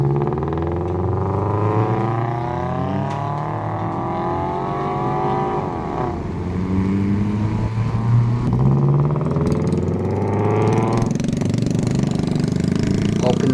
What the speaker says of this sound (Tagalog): maingay yung kanilang tambutso